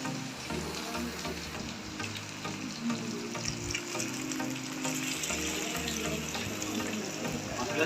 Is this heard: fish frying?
yes